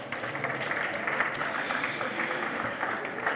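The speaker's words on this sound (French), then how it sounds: "Mais vous pouvez vous applaudir déjà" An audience at a French early-childhood event applauds in a steady, dense wash of clapping at moderate volume that carries on evenly throughout, without voices over it.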